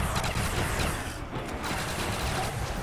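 Gunfire in Call of Duty World at War Zombies, a steady, loud clatter of rapid shots with mechanical rattling running throughout, briefly thinning midway.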